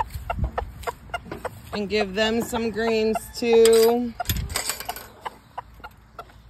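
Backyard homestead chickens, including a rooster and hens, cluck and call in bursts close by while a person talks to them and offers fresh greens.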